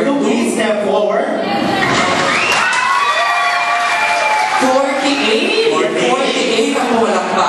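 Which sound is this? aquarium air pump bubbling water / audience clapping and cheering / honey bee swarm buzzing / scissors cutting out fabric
audience clapping and cheering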